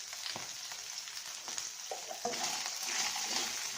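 Okra and brinjal sautéing in a pan, a steady close sizzle with light stirring and occasional soft scrapes, no voices.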